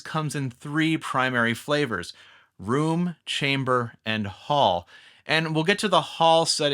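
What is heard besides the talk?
No everyday noises stand out.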